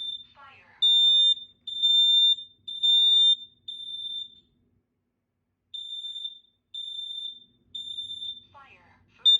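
A Kidde KN-COSM-IBCA combination smoke and carbon monoxide alarm sounds during a test, giving loud, piercing high-pitched beeps in regular groups of three. A synthetic voice speaks between the beep groups.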